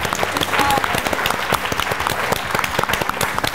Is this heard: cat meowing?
no